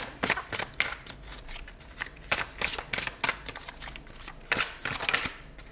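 Tarot cards are shuffled and drawn close up, giving a run of crisp riffling and slapping bursts in an uneven rhythm.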